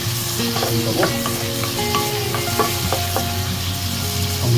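Pork sizzles loudly in a pan with ginger, onion and tomato, a continuous close frying hiss with clinks and scrapes from stirring, and no talking.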